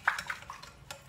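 A hand whisk clinks against a bowl while eggs and sugar are beaten for a Turkish dessert, a few quiet, irregular metallic taps and scrapes close by.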